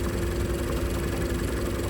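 A car engine idles steadily during a tailpipe emissions test, giving a constant close hum and low vibration with no speech.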